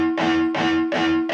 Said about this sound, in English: I just happen to have my distortion on right now.